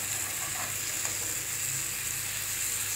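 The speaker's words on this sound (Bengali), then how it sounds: "তেল ছাড়া অন্য কড়াইয়ের মধ্যে আমি মরিচগুলো ভাজিয়ে নিব" Chilies dry-roast in a pan without any oil, giving a steady, gentle crackling sizzle with faint stirring throughout.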